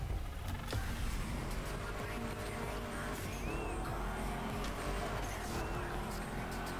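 A car drives at speed in the racing game The Crew Motorfest on PS5, its engine droning steadily with rising and falling pitch as gears change, under faint voice.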